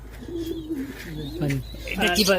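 Pigeons coo at a pigeon farm, a soft, repeated throaty warble close by, mixed in with people talking over it.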